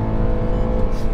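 A Lada Vesta Sportline accelerates hard from a launch, its engine a loud, rising roar heard close for about a second, with no talking.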